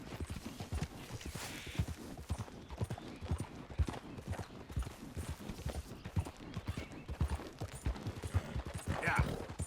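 Horse hooves clip-clop at a steady trotting rhythm in the video game Red Dead Redemption 2, loud and close throughout, with a voice talking over them at points.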